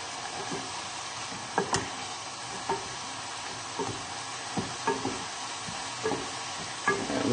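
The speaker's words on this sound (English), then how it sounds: "So hopefully your tomatoes are just boiling away nicely." Tomatoes bubble and sizzle in a pan on the stove, a soft continuous hiss broken by regular clacks and scrapes of a utensil stirring and pressing, close and moderately quiet, with no speech.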